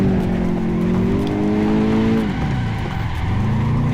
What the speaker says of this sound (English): Drifting feels so much different now because I actually feel the momentum of the car.